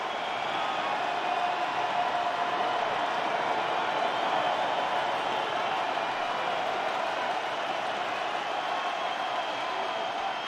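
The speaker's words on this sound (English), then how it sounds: "Crowd on their feet." A college football stadium crowd is on its feet at a 2022 Middle Tennessee vs. Miami game, making a dense, steady roar that holds evenly throughout.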